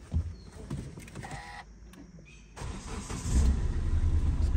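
A used Hyundai Verna with a push-button start turns over and settles into a low, rumbling idle close by, following quieter mechanical clicks and whirs.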